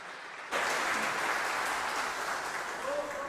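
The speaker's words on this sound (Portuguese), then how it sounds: "Aplauda o Senhor Jesus." Church congregation at a Baptist service bursts into applause after a brief silence, a dense, steady wash of clapping filling the room for about three seconds.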